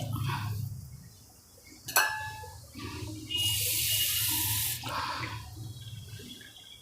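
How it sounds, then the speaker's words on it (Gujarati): Water splashes and runs into a bowl of masoor dal in a steady broadband rush for a couple of seconds, with a clink of a utensil just before and kitchen noise around it. "અડધો બાઉલ આપણે પાણી નાખી દઈશું"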